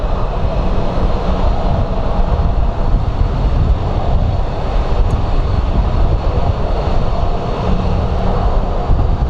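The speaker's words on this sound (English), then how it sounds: "It isn't the beach, it's a regular plane." A steady, broad roar like a regular airplane at Sky Harbor International Airport during a storm, heard as continuous rumbling noise without distinct peaks, loud and constant, with no talking.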